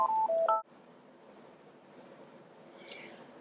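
A few short telephone keypad tones beep close by at the start, followed by a quiet room with faint background noise and a brief click near the end.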